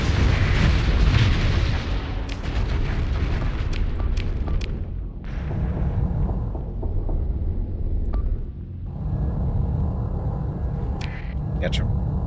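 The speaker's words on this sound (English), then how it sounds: "Station destroyed." A space station is blown apart in the space game Starsector, with deep rumbling booms and blasts rolling in repeated waves under ongoing talk.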